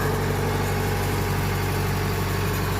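A Kubota 105X combine harvester's engine idles with a steady, loud, close drone and a deep rumbling vibration that holds without a break.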